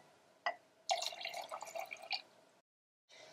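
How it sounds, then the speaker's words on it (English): Ammonia poured into a glass container for a home crystal-growing project: a single drip, then a short splashing stream that trickles off and stops, followed by a faint clink. "Next, I'll pour in the ammonia."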